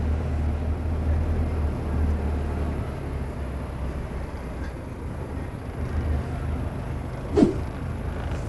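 A truck maneuvers through a tight curve on the BR-324 highway, a continuous low rumble of engine and road noise with a brief knock near the end.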